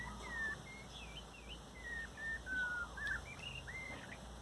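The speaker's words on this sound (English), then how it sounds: "Bird's doing a low song to tell him to bugger off." A bird gives a low, warbling territorial song outdoors, a series of thin faint whistled phrases repeating over steady background hum.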